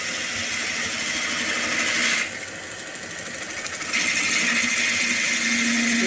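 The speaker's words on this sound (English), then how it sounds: "I'm just using the half-inch spindle gouge" A wood lathe spins a workpiece while a half-inch spindle gouge cuts into it, a steady close whirring hum that drops briefly in tone and then rises again.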